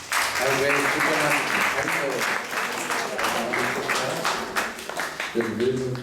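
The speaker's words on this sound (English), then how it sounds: "Let's give a big round of applause for our great" Audience applause at a Sunday class in an ISKCON temple in Atlanta, a steady dense clapping that fills the room for several seconds, with voices talking over it throughout.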